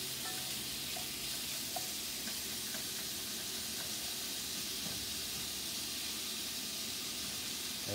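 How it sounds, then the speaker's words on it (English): Seasoned shrimp coated in oil fry on high heat in a cast iron pan, giving a steady, even hiss and sizzle with faint pops and stirring, constant throughout at low level and without talk. "now that we've got the shrimp all covered with oil and seasoning, it's going to go in the pan"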